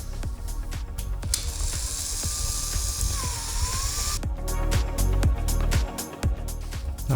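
A Cuisinart FastFreeze ice cream maker grinds chocolate chips into frozen ice cream in mix-in mode, a loud mechanical ratcheting drone with rapid clicking and a brief whining motor stretch, no voices.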